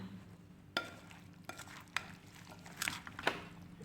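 Yogurt is mixed in a bowl for a chana chaat, with soft scraping and occasional light clinks of a spoon against the bowl, quiet and close.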